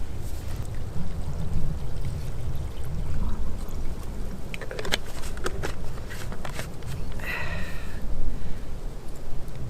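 Water pours into a freeze-dried Beefaroni meal pouch at a camp cook on a hike, a close, steady splashing and gurgling under low outdoor rumble, with brief clatter partway through.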